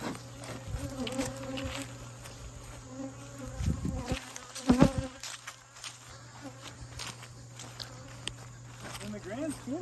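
Honey bees buzz steadily around an opened beehive during a hive check at a beginners' apiary, a continuous insect drone under people talking nearby, with a few footsteps and handling knocks.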